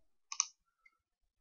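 A single crisp computer mouse click, a quick double tick while selecting an on-screen OK button, close and quiet in an otherwise silent room.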